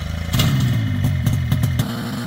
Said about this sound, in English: the pilot only has to press a button to start the engine